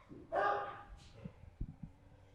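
Dogs bark in outdoor runs at an animal shelter: one loud burst of barking up close, followed by a few short, fainter yips and thumps, with a voice speaking in the background.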